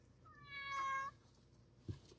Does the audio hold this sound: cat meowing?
yes